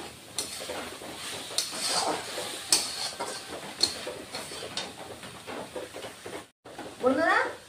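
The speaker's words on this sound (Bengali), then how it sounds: "এভাবে একটু 1 মিনিট ভাবে আমি ভেজে নিব।" Red amaranth greens (lal shak) fry in oil in a pan with a soft crackling sizzle and occasional scrapes of stirring, while someone talks over it.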